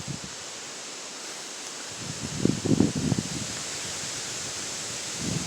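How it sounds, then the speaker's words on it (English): Wind blows through trees during a storm, a steady broad rushing hiss with a swell of louder rustling and gusting in the middle. "Lots of trees, lots of wind."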